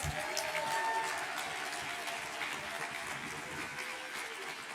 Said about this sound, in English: How about a huge, huge round of applause for our ASL interpreters?